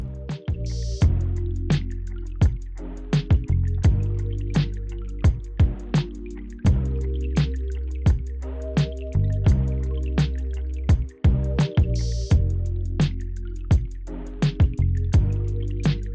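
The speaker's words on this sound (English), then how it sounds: "I'm adding that in a teaspoon at a time and then blending" Close-up food processor blending a dressing as liquids are added a teaspoon at a time: a steady humming motor drone broken by frequent sharp clicks and pulses throughout.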